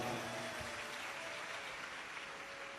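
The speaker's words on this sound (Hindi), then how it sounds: "एक बार बेटी के लिए जोरदार ताली बजाओ।" A crowd claps steadily in dense, even applause, moderately loud and sustained throughout with no talking, at a live Shiv Mahapuran religious discourse gathering in Raipur.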